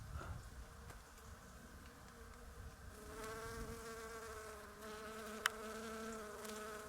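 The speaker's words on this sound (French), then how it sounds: "beaucoup d'abeilles ici qui butinent" Several bees buzz steadily nearby while foraging on crucifer flowers near vineyards in December, their drone wavering in pitch as they move about; faint and continuous, with no voices.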